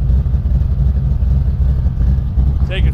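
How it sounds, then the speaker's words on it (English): A 1968 Camaro V8 engine idles steadily with a low, continuous rumble, while a voice talks faintly over it. "Nolan, go ahead and rev it up a little bit."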